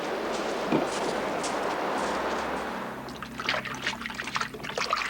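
Tap water runs steadily into a sink while hands are scrubbed, a close continuous splashing rush that shifts into a choppier trickle with small wet rubbing sounds, heard alone without talk.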